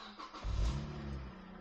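A Mazda Miata NC engine catches and starts, a brief crank followed by a low rumbling idle that settles quickly, heard close and fairly quietly with no talking.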